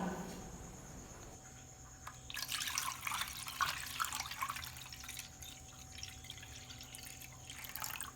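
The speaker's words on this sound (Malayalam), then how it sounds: "ഇതിലേക്ക് തേങ്ങാപ്പാലും ഒഴിച്ച് മിക്സാക്കി കൊടുക്കണം." Wheat milk and coconut milk are poured into a pan for halwa. After a quiet start, a soft, continuous liquid trickle and splash runs through the rest, with no voices.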